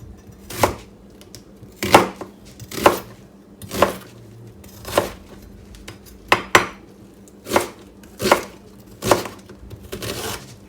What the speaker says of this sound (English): Gonna give it a really quick, rough chop